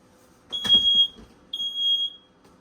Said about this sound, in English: there's the smoke alarm I was talking about.